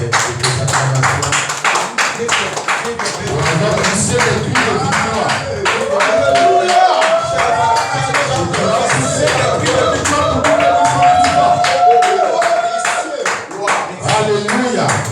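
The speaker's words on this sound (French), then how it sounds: "Big clap for God." A church congregation claps loudly and rhythmically in praise, with shouts and cheers rising over the steady beat and a preacher's voice calling out through the noise.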